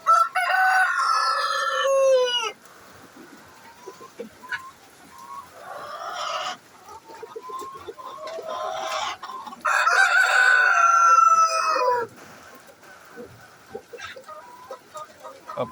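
Tiger chickens on a small backyard egg-laying farm cluck and crow nearby in loud, overlapping bursts, with several calls rising over steady farmyard chatter and no talking.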